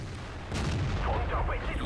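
A WZ-131 tank cannon fires once in World of Tanks: a loud, close boom lands about halfway through, then a rumbling tail trails off over steady engine and battle noise.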